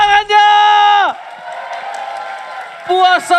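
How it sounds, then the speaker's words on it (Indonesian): Arena crowd cheering and applauding at an MPL Mobile Legends esports match, game three of RRQ versus Rebellion: a loud, sustained roar of about two seconds, framed by a strong voice and tonal sounds before and after. "So, IPL Arena mana tepuk tangannya?"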